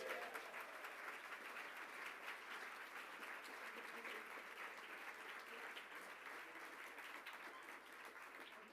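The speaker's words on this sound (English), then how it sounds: "Give yourselves a round of applause." An audience at a breakfast book event gives a sustained round of applause, dense and even throughout.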